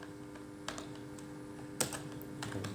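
Computer keyboard being typed on while entering a network command, a few sparse key clicks over a quiet room hum, close and without speech.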